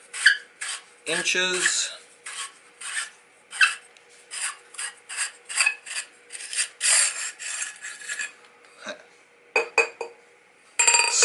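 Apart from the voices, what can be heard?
unscrewing Gemtech Mist suppressor from 10/22 rifle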